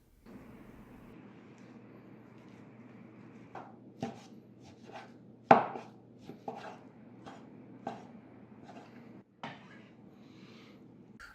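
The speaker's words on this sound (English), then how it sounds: "Simply butterfly the beef into thin slices and cut into strips." Knife slicing beef into thin butterflied slices and strips on a board, a series of sharp chopping knocks at an uneven pace over a low steady background hum, close and fairly clear.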